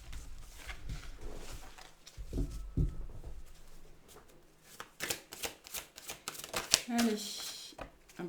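Oracle cards being shuffled by hand, a soft riffling and flicking of the deck in short bursts, close up, with a person talking quietly in between.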